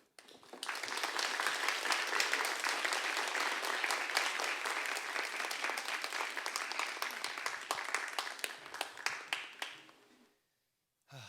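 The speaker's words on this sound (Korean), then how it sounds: "우리 선교사님 앞으로 나오실 때 큰 박수로 환영하겠습니다" A church congregation at a Wednesday worship service applauds to welcome a missionary speaker to the front, dense steady clapping rising quickly and holding for about ten seconds before breaking off abruptly.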